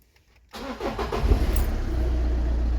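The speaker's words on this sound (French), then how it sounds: "Maintenant, démarrer le moteur de la voiture" A car engine cranks and catches after a short silence, then settles into a steady, close, rumbling idle.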